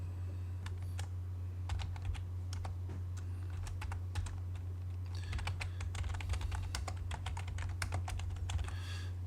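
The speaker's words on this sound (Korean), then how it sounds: "명령창에 자, 스냅이라고 입력을 하시면 됩니다." A computer keyboard is typed on in rapid, uneven clusters of crisp clicks as a command is entered in AutoCAD, close-miked over a steady low hum, with no talking.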